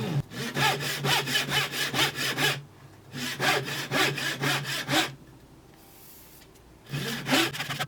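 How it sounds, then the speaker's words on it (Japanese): A handsaw cuts through the tip of a solid wood shift knob with a checkerboard pattern, fitted with an M8 thread. The saw strokes come close and steady in three bursts, with short pauses between them. "研磨が終われば先端を切り落とします。"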